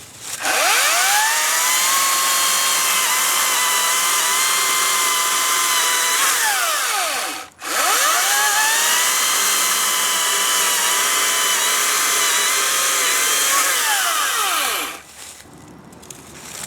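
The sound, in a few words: ECHO 58-volt battery chainsaw cutting through a log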